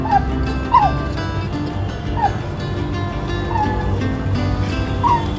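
A puppy being groomed at home gives short high yips and whimpers, repeated every second or so, over a low steady background hum.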